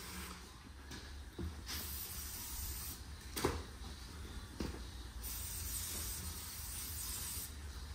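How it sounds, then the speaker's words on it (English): Brake cleaner sprayed around a Ram 1500 tire to seat it gives a continuous hissing spray over a steady broadband background, broken by a few sharp clicks and pops, with no clear speech. "So he's using the brake cleaner"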